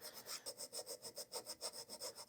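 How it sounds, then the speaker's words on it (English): Rhythmic back-and-forth rasping of sanding and filing on a Nazgul sword prop part, about a dozen even strokes in quick succession, close but quiet. "A little sanding in there, a little filing."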